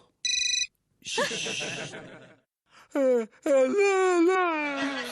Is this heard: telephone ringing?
yes